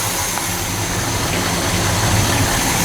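A 1972 Chevelle's 350 V8 with stock manifolds idles steadily and loudly at close range, a continuous low rumble with no voices.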